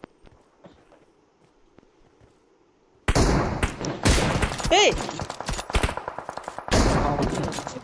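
Firecrackers go off outdoors at a festive gathering, opening with quiet background noise before a sudden loud barrage of rapid sharp bangs and crackles, with a short whistling rise amid the bursts and a brief shout.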